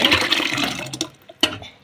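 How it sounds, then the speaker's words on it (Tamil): Water pours into a cooking pot while making horse gram rasam, a brief close splashing rush that thins out, followed by a short second splash. "தண்ணியோட இதையும் ஊற்றி வச்சிடலாங்க"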